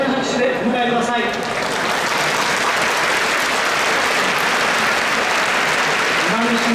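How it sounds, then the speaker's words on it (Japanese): Sustained, dense applause from a large racecourse crowd at the trophy ceremony for the Victoria Mile horse race, steady and loud throughout with a few brief tonal sounds early on. "皆様どうぞ盛大な拍手でお迎えください。"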